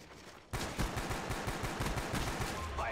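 Gunfire erupts in Call of Duty Black Ops on the Wii, a quick rattling run of shots starting abruptly after a short quiet moment and continuing loudly to the end.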